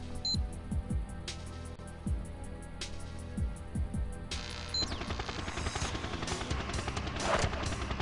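Helicopter in the N64 video game GoldenEye: a steady low rotor drone runs throughout with repeated short descending game effects, then louder dense clatter and noise in the second half.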